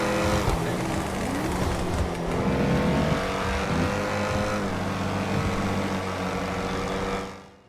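A V8 engine with a famously visceral exhaust system roars loudly and steadily up close, revving and holding a deep, throaty note for about seven seconds before cutting off abruptly.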